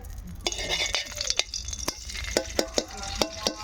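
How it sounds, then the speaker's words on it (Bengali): Ghee heating in a kadai gives a steady soft sizzle, with sharp metallic clinks and scrapes of a spoon against the pan breaking through at irregular intervals. "কড়াইতে হচ্ছে ঘি দিয়ে দিলাম"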